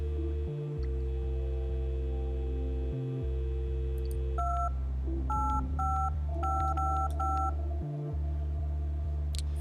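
Phone dialing in the video game Lost Records: Bloom and Rage, a series of clear keypad tones entered one after another over a steady low hum with occasional brief dips.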